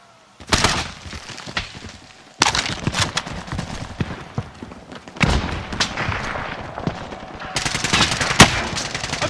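Bursts of rapid automatic gunfire from the video game Warzone, several loud close volleys separated by short pauses, with sharp individual shots cracking through the rattling fire.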